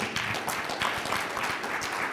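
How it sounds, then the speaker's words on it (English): Audience applause at a conference closing keynote, brisk steady clapping from a crowd heard at moderate level for a couple of seconds with no talk. "could we please continue that applause for all three?"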